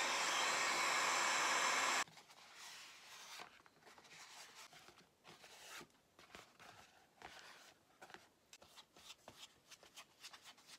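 A heat gun blows loudly at close range for about two seconds while heating a foam overlay for a cosplay helmet, then cuts off, leaving quieter rubbing and handling noises of the foam being shaped.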